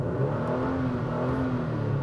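2016-2018 Toyota Tacoma TRD Sport with a 3.5-litre Atkinson-cycle V6 revving, a steady loud engine drone with a gently rising and falling pitch, heard close with no talking.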